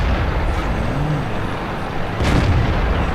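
Tank cannon fire in World of Tanks, a deep blast from the game's tank combat that booms over a steady, dense rumble of engines and battle noise, with one sharper burst standing out.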